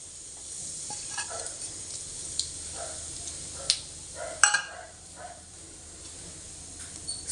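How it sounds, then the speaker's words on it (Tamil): Crushed fennel seeds fry in hot oil in a pan for a squid curry, giving a steady, fairly quiet sizzle with scattered sharp crackles and spits, one louder burst near the middle. "சோம்பு நல்லா பொரிஞ்சிருச்சு."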